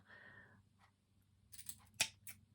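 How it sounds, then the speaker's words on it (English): Scissors snipping material for a cork ornament craft: a few soft cuts followed by one crisp, close snip and a final quieter cut, in a quiet room. "I'm going to give it a little bit of a snip"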